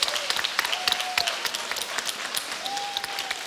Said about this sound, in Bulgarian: Затова още веднъж вашите аплодисменти.